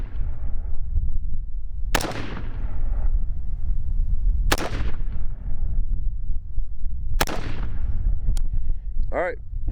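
Three loud, sharp rifle gunshots crack out at long range, spaced a few seconds apart, each with a lingering rolling echo over a low steady background rumble.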